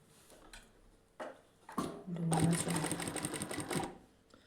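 A sewing machine stitches a double-folded nightie hem in a tutorial, starting with a few short bursts, then a steady fast whirring run for about two seconds, close and loud, with talk around it.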